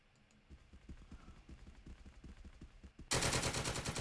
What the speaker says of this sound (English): great, it's a machine gun.